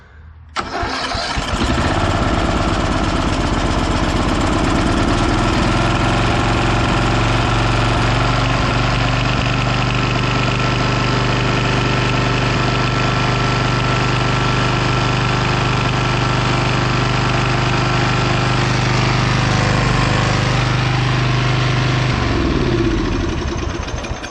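An abandoned Bolens garden tractor's small engine runs continuously and loudly, starting up at the beginning and holding a steady, rough mechanical drone with a low throb until it cuts out at the very end; no talking.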